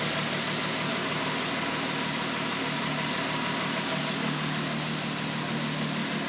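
A Renault 5 Maxi replica's engine idling, a steady, fairly loud mechanical rumble with a slight vibrating throb that holds even throughout without revving.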